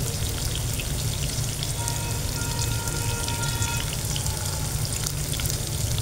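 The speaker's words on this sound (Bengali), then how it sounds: "পেঁয়াজ মরিচ কষানো চলছে" Onion and chili sizzle hard with ground spices and salt in hot oil for pabda fish curry, a loud, steady crackling fry that never lets up.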